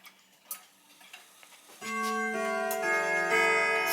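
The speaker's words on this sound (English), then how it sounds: "Let's go to Westminster chime." Howard Miller grandfather clock sounding the Westminster chime for the quarter hour: a few faint taps first, then loud, ringing bell tones that overlap and sustain, heard alone up close.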